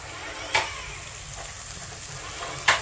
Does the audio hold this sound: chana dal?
yes